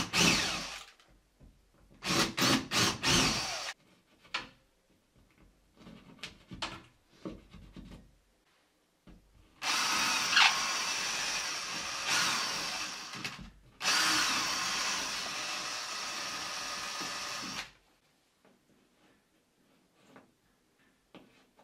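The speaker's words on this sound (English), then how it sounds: "it's about a 6mm drill that I'm using here, and I'm just going to drill out these two plugs" A power drill with a roughly 6mm bit drills out two wall plugs in a plasterboard wall, running in short bursts at first and then in two longer runs of several seconds, with quiet pauses between them.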